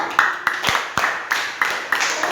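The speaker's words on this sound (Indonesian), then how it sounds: "tepuk tangan buat Mbak Adina" Applause for a student in a classroom, a small group giving sparse, evenly spaced claps that sound close and light.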